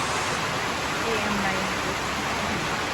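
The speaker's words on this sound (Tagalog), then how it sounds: "Lakas na ulan mga kabeshi." Heavy rain at a roadside eatery at KM 90 on Marilaque, a dense steady hiss of downpour filling the scene throughout at high level.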